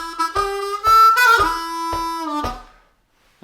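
Harmonica plays a song's lick slowly, the 1 draw landing on the final beat. Close, bright reedy tones with rhythmic breathy chops and sustained bent notes, played alone and then fading to silence.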